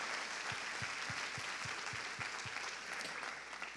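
A congregation at a women's church service claps together, dense steady applause filling the room, with a faint rhythmic low thump underneath the whole time.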